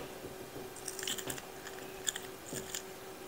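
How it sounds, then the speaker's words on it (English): Crisp bites and crunchy chewing of fresh radish seed pods, a few close, short crunches in quick succession over a quiet background. "You can just bite them."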